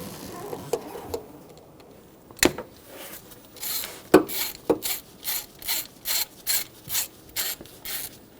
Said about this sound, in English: Using a 10mm socket, we're going to remove the bolt for the solenoid.